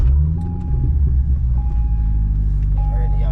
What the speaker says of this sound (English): Y'all heard the exhaust note.